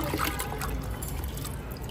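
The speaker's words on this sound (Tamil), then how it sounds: "இப்போ இந்த செடிக்கெலாம் இதை ஊற்றிக்கலாம்." Water trickling and pouring onto potted plants, including a green chilli plant, a soft, faint splashing dribble that continues steadily without talk.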